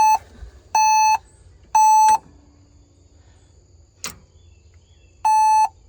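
Warning beeps from an LS MR232 HST compact tractor during a no-start check: four short, loud electronic tones in an irregular pattern over a low idle-free background, with a brief clunk between them.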